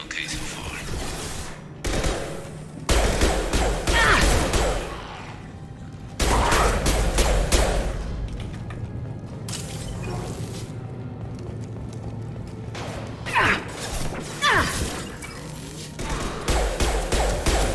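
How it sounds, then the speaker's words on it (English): Gunfire rattles in bursts through a Mass Effect firefight, loud volleys of rapid shots broken by short lulls, with voices talking in between. "Taking some fire, but I'm okay so far."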